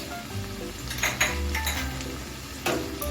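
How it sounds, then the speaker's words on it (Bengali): Garlic, ginger and green chili paste being stirred in a pan for gati kochu rezala, with clinks of a utensil against the pan over a low cooking background. "আরেকবার একটু কষিয়ে নিচ্ছি যতক্ষণ না আদা রসুনের কাঁচা গন্ধটা কেটে যাচ্ছে"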